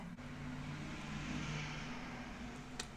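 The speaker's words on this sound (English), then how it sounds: "wait for the car to go by" A car passes on a city street, giving a broad, steady road rumble at moderate distance that swells gently across the clip, with no voices.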